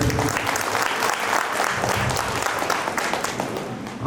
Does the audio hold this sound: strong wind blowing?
no